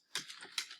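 Two quick bursts of computer keyboard keystrokes, close and crisp, as a search term is typed in, with a brief pause between them.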